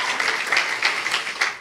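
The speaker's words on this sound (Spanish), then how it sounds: "Damos un aplauso al Señor por su bondad." Church congregation clapping in applause during a service, a steady wash of many hands with slight swells, fairly close and filling the room.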